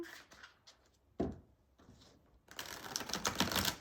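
An oracle card deck is riffled and shuffled in a quiet room, with faint soft card slides followed by a louder, sustained flurry of papery flicks.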